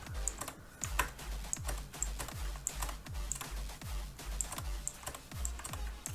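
Steady typing on a computer keyboard, letters being typed in a quick, even rhythm of sharp, close key clicks with thumping keystrokes underneath, no voices.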